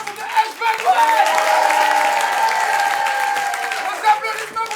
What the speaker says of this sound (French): Vos applaudissements pour The Ex-Bad One!